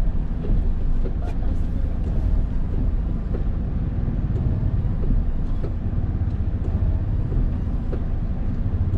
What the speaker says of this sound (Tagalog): Tingnan na may tricycle pa.